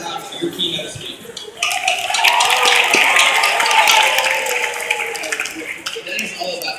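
An audience at a middle-school leadership conference bursts into applause for a keynote speaker, swelling after a spoken introduction and holding for several seconds before fading.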